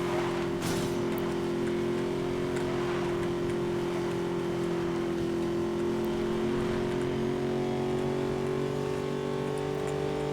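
A Ford Mustang in the racing game Need for Speed Most Wanted, its engine holding a steady droning tone at speed, continuous and fairly quiet with no talk.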